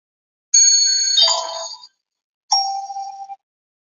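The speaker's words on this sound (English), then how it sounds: "Fucking doorbell." A two-tone electronic doorbell chime rings once, a bright high note falling to a lower one, then a shorter second chime follows after a pause.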